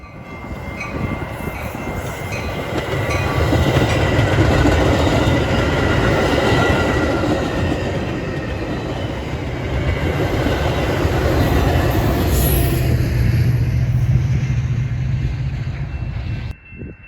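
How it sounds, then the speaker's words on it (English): A weekend Metra local commuter train bound for Chicago rumbles past at close range, a long steady roar of wheels on rails with some squealing, fading slightly at the end. "followed by this local train making all stops to Chicago"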